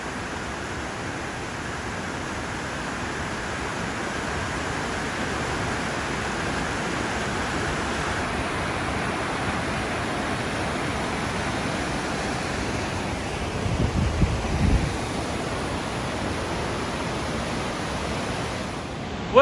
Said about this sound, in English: Unbelievably powerful waterfall